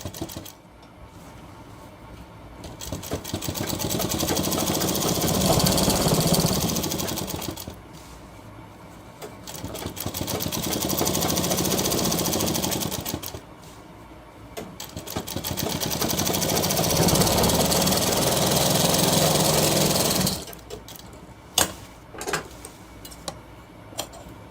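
A sewing machine runs stitching a shirt hem in three sustained bursts of rapid mechanical clatter, separated by brief pauses, with scattered clicks at the end.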